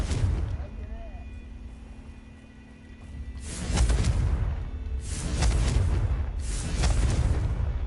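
A Confringo blasting spell goes off in a video game, a few deep rumbling blasts arriving in succession after a quieter lead-in, fairly loud and reverberant.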